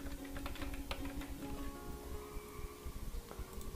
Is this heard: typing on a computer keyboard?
yes